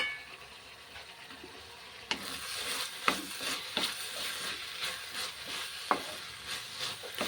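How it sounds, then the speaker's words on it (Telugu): Finely chopped tomato frying in hot oil for a ridge gourd curry, a steady close sizzle broken by several sharp scrapes and knocks of stirring in the pan. "ఇందులో టమాటా చిన్న ముక్కలుగా కట్ చేసి వేసుకుందాం"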